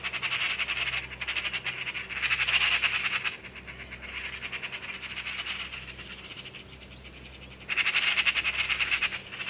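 Harsh, rapid chattering calls of agitated magpies come in repeated loud bursts with short pauses, over a steady low background hum.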